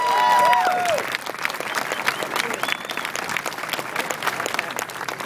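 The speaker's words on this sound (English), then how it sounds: "Another round of applause to affirmations." Crowd at an LGBT suicide-prevention rally at San Francisco Civic Center applauding, a dense, steady wash of clapping that stays loud throughout, with a brief voice or tone near the start.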